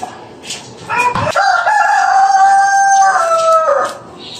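A rooster crows once, close and loud, a long drawn-out call lasting a few seconds against a quiet background.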